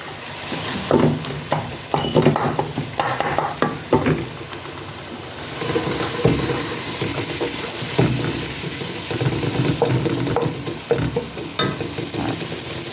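Cabbage and onions sizzle and fry in a pan, with a steady loud hiss broken by repeated stirring scrapes and clatter, no voices over it.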